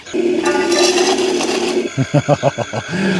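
A Double E E591 RC wheel loader scoops gravel near a Volvo A40G articulated hauler model. A close grinding, clinking scrape of stones is followed by a rapid series of short rattling pulses, with no voices.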